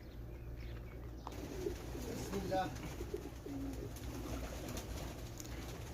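Pigeons coo at a busy night market in Riyadh, Saudi Arabia, with soft, repeated calls rising over a steady crowd murmur and occasional wing flutters.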